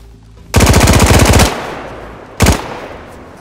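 Automatic gunfire from the newest gun in DayZ, armor-piercing rounds: a loud, rapid sustained burst of about a second, a pause, then a short second burst.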